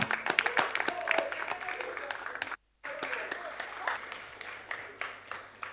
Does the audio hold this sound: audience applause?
yes